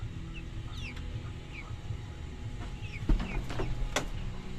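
Pet chickens cluck in their coop, with several short clucks and calls scattered over a low farmyard hum and a louder burst near the end.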